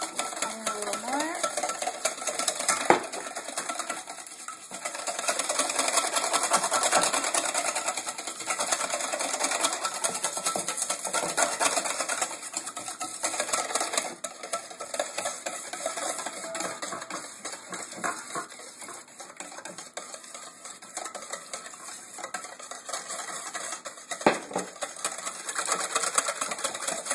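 Homemade mayonnaise with raspberry and coconut is whisked in a bowl, giving a steady, rapid scraping and clicking rhythm against the bowl that runs for the whole stretch with no talk.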